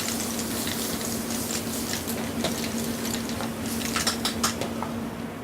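Seafood sauce ingredients with chili flakes, salt and pepper are stirred in a sizzling pan, giving a steady frying hiss under light scraping and clinking from the utensil.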